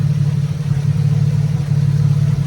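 An Audi V6 turbo engine fitted in a Mini idles at about 800 RPM, giving a loud, steady low hum with a faint, even pulse and no other sounds.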